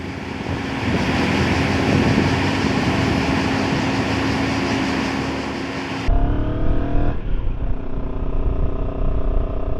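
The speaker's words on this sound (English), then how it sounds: "A good sound from both bikes. This one is a more sort of a hollow, throaty sound" Rieju Xplora 707 motorcycle engine and exhaust giving a steady, hollow, throaty drone at close range, with an abrupt change in tone partway through as the bike shifts or passes; no voices.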